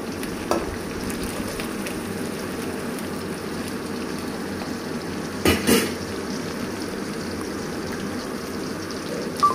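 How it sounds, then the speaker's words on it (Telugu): Green chilli pieces fry in a pan for a poha tiffin, a steady rain-like crackling sizzle held close and even, with a brief louder stir or clatter near the middle and no talking. "పచ్చిమిర్చి ముక్కలు కూడా వేసి దూరగా వేయించుకోవాలి."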